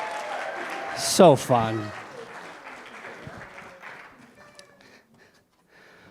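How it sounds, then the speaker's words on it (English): A brief round of applause from a congregation at a Sunday church celebration, partly masked by a loud whooping cheer and a short spoken remark, then trailing off into quieter crowd noise. "give him another round of applause"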